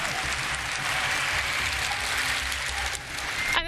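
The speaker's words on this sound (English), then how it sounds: "And the crowd cheering for Elevate, finally back in this game." An esports crowd at a Rainbow Six Berlin Major quarterfinal arena cheers and claps in a dense, sustained roar that dips briefly near the end before surging again.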